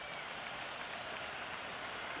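Crowd cheering and applauding at a cricket semi-final between India and Afghanistan in the Cricket 26 video game, a steady dense roar of applause throughout, no voices standing out.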